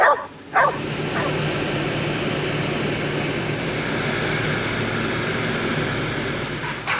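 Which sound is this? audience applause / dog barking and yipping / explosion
dog barking and yipping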